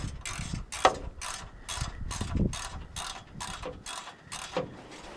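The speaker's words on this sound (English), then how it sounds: "Now what I need to do is just tighten the U-bolts down to the hitch part." Ratcheting wrench tightening U-bolts onto a tow hitch for an RV tow-car protector, a steady series of quick metallic clicks in short repeated bursts, close and moderately loud with no talk.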